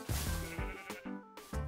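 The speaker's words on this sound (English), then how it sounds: "A sheep!" Several short bleats from a sheep in the Minecraft video game, bursting out in quick succession near and fairly loud over a busy game soundscape.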